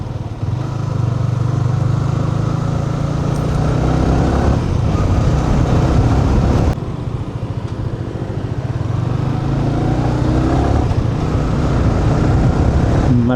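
Mercedes-AMG C63 S engine heard from nearby on a street in Vietnam, a steady loud rumble with low droning tones that hold throughout, rising and settling slightly without pauses.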